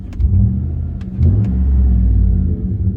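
A 2007–2013 GM Sierra truck engine revs up twice in quick succession, a loud, close, deep rumbling roar that swells and holds with no talking.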